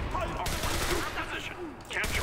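Rapid bursts of gunfire crackle through a firefight in the video game Enlisted, dense and loud with little pause between shots, layered over a busy battlefield din.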